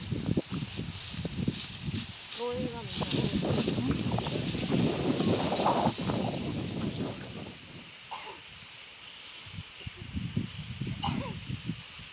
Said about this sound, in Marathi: हा आता वारच